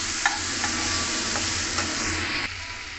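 Spices, sugar and roasted cumin powder sautéed in a pan for a tofu vegetable stir fry: steady close sizzle with rhythmic spatula scrapes, then the frying quiets slightly near the end.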